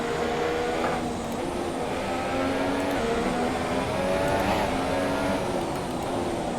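Formula 1 race cars at Monaco in F1 2017 scream along in a continuous, high-pitched engine whine that rises and falls with gear changes, close and loud throughout.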